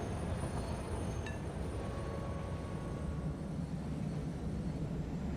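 A train in the Satisfactory factory-building video game runs steadily, a continuous low rumbling roar with a faint thin squeal briefly above it, without talk.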